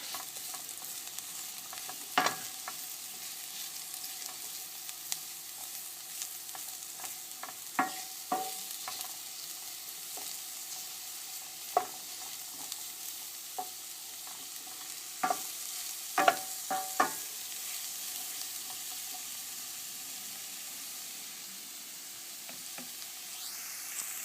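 Mushrooms frying in oil in a pan for risotto, a steady soft sizzle with scattered sharp crackles and stirring clicks, close and continuous with no talk.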